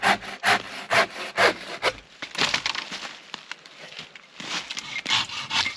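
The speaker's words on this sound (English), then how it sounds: "All the high branches that I can reach have been pulled down and cut out of the way." A handsaw cuts through tree branches at a snowy campsite in a snowstorm, steady back-and-forth rasping strokes close by, rhythmic and alone.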